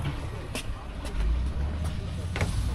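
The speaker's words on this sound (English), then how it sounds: "We have a traffic jam right now." Road traffic idles in a jam on a mountain road near the Myanmar border in Yunnan, with steady low engine rumble and passing vehicle noise, people talking nearby.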